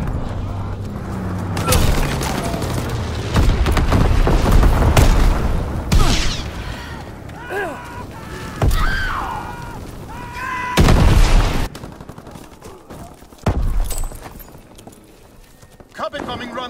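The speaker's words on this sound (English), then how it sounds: "Dropping incendiary." Incendiary bombs dropped by a bomber exploding in a war video game: heavy booms and gunfire-like blasts rolling across the scene, mixed with in-game voice callouts and other battle noise.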